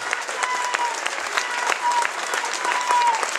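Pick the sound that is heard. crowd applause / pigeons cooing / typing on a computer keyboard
crowd applause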